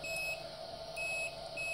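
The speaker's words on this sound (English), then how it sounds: "Now you can see the LED coming on and obviously making that beep." A QIDI X-One 2 3D printer's limit switch gives three short, high electronic beeps in a quick series. They sound close but faint over a steady background hum.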